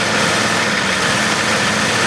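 A Volvo car engine idles steadily with a low, even rumble and constant vibration throughout, close and fairly loud, with no voices.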